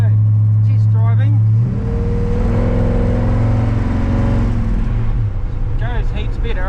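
A 1946 Chevrolet pickup truck fitted with a 350 small block engine revs up and pulls away on a test drive, a loud steady drone rising in pitch and then settling, with brief talk near the start and end.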